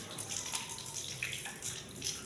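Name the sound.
water poured while washing feet for wudu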